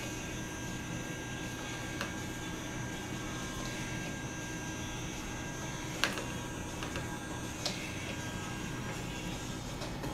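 Motorized arm of a Lost in Space B9 robot replica moving up and down, a steady mechanical whine and drone with a few faint clicks, constant and fairly quiet throughout.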